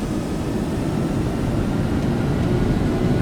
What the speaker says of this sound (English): I believe I turned down the engine sound on P3D.